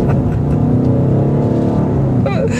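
Engine of a 2023 BMW XM plug-in hybrid SUV driving in sport mode, a steady loud drone and rumble throughout with a brief higher whine near the end.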